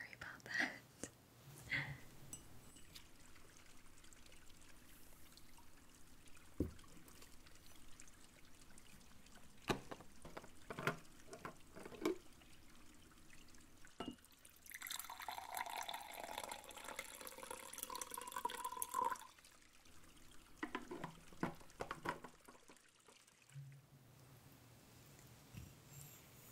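Warm water poured into a cup during a quiet spa-style roleplay, a soft trickling stream in the middle of the passage among faint rustles and whispered talk, close and gentle.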